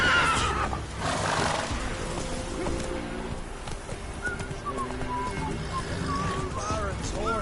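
Horses whinnying and neighing in a PS4 video game, with rhythmic hoof thumps and game ambience beneath; several drawn-out neighs rise and fall in the later part, fairly close.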